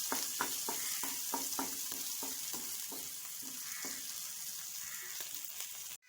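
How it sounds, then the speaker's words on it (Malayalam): Green chilies sizzle in hot oil in a pan, a bright continuous frying hiss with a quick series of stirring scrapes in the first half, close and fairly quiet, cutting off abruptly at the end. "പച്ചമുളക് ഇട്ട് കൊടുക്കാം. ഇതൊന്ന് വഴറ്റി കൊടുക്കാം."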